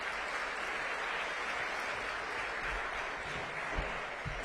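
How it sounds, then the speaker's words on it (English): Audience applause at a school event at St. Patrick's Episcopal Day School in Washington, D.C., steady massed clapping at moderate level that carries evenly throughout with no talk. "So give yourselves another round of applause."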